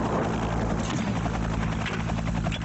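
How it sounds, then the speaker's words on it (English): An Afghan Air Force Mi-8 helicopter approaches near the border, its loud rotor chop and turbine roar filling the air steadily throughout. "An Afghan Air Force Mi-8 attack helicopter arrives."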